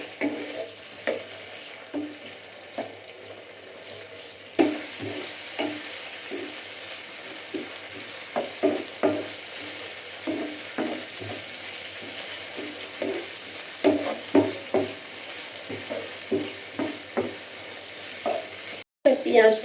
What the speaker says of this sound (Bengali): এই যে এই তেলের মধ্যেই এবার পেঁয়াজটা দিয়ে দেবো। পেঁয়াজটা একটু নেড়ে নেবো।